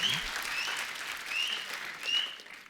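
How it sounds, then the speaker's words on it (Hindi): An indoor audience at a talk show greets a film-star guest with steady, dense applause that stays loud and even throughout, with no voices over it. "एक बार जोरदार तालियां संजू पाजी के लिए।"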